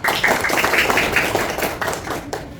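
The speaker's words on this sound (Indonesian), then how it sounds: "Luar biasa, tepuk tangan." A class of schoolchildren claps hands together in a lesson, a dense run of quick, close claps that carries on steadily, with a brief lull near the end.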